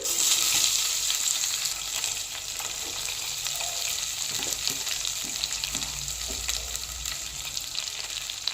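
Thinly sliced onions, slit green chillies and curry leaves fry in a pan of oil for a Nellore fish curry, a continuous close sizzle with soft stirring scrapes throughout and no talking.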